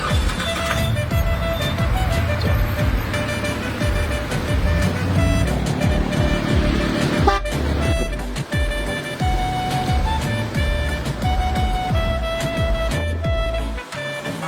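A handmade car built in Kirkuk, with a wooden body and bonnet on an iron chassis, drives past. It makes a loud, steady engine and road rumble throughout, with a brief dip midway and no clear speech.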